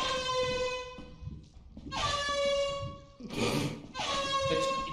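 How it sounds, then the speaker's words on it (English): Loud blaring horn blasts from an air horn in the video game Lethal Company repeat in several long bursts separated by short gaps, harsh and brassy. "I bet the monster's scared of the air horn."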